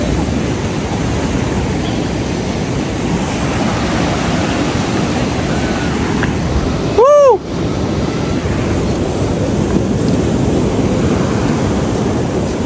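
Sea waves roll in at Arambol beach in Goa as a steady, loud wash of surf filling the whole stretch, with a brief tonal chirp cutting through near the middle.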